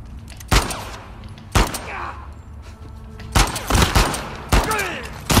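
A burst of close gunfire in The Last of Us Part II, several loud single shots then a quicker cluster, each cracking with short ringing tails over a low game ambience.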